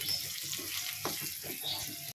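Close, steady sizzling and crackling of a spice tempering frying in oil until light brown, with soft scraping stirs, ending abruptly.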